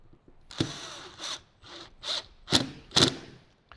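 A T20 Torx driver tightening a bolt on a replacement subwoofer in a Jeep JL, heard as short bursts of ratcheting clicks and scraping metal, close and fairly quiet, separated by brief pauses.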